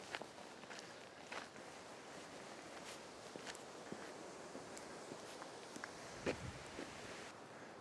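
Footsteps of a person walking uphill outdoors while carrying camera gear, a steady run of soft crunching steps with faint rustling of clothing and ground cover, fairly close, no voices.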